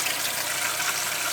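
Water runs steadily from a tap aboard a 1976 Tayana 37 sailboat, a continuous hissing rush with no talking.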